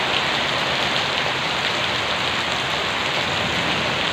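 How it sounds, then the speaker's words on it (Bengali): Heavy rain from a Kalbaishakhi storm pours down steadily, a loud continuous hiss of drops striking surfaces nearby, with no voices. "অনেকদিন পরে বৃষ্টি, খুব ভালো লাগে"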